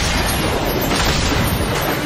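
Ship cannons fire in a video game as a dense, continuous roar of booming and crashing, loud and sustained throughout with no clear gaps.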